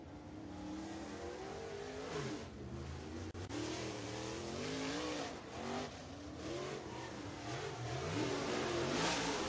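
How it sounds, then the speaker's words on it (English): Race car at Duck River Raceway Park in Lewisburg, Tennessee, running hard on track during qualifying, its loud engine revving and surging continuously with rising and falling pitch as it laps, no talk over it. "Our next qualifier on the racetrack is car number nine out of Woodstock, Georgia"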